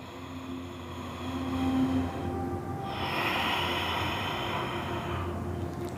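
A deep breath during a pranayama breathing exercise, a long, slow audible inhale and exhale through the nose, close and soft, with no talking.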